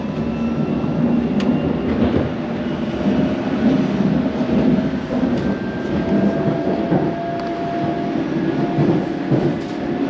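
A London Overground train on the Suffragette line heading towards Barking rumbles steadily from inside the carriage, a continuous loud rolling drone with faint squeals and no talk throughout.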